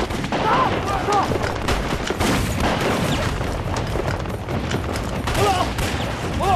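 Heavy gunfire in a battle between soldiers and bandits in a mountain valley: dense, continuous volleys of rifle and machine-gun shots with booming blasts, loud and close, with shouting voices mixed in.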